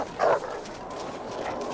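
A video game wolf gives a short yelp or bark-like call in the open, loud and brief, over a steady background bed of ambient game sound.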